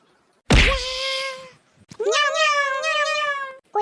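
Cartoon cats meowing in an Assamese animated story: a loud, drawn-out meow rings out alone, then after a short pause a longer wavering one follows, ending with a brief clipped cry.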